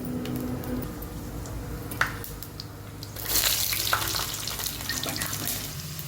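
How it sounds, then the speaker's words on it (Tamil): Fennel seeds and garlic frying in hot oil for a fish curry give a steady close crackle and sizzle, with a few clinks of stirring and a louder burst of spitting partway through. "பெருஞ்சீரகம் நல்லா பொரிஞ்சிட்டு இப்போ வந்து பூண்டு போட்டுப்போம்."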